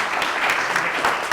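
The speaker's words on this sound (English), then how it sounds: "you should give yourself a round of applause for that" An audience of admitted Brown students applauds at a welcome event, a steady, close wash of clapping that fills the short moment without a break.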